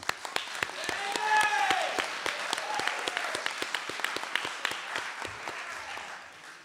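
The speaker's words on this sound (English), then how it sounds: "so a round of applause for you" Audience applause at a high school candidate forum for a county supervisor seat, a steady wash of clapping from a moderate-sized crowd with a few sharp nearby claps standing out, holding throughout before thinning slightly at the end.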